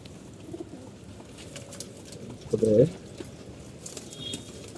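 Pigeons on a rooftop coo in a short, low burst partway through, set against steady outdoor background noise with a faint voice nearby.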